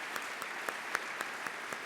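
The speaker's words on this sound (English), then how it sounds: "Rounds of applause." An audience at the 2019 Minnesota Tekne Awards applauds the presenting sponsors Optum and Thomson Reuters with a steady wash of clapping, punctuated by a few sharper accents at regular intervals.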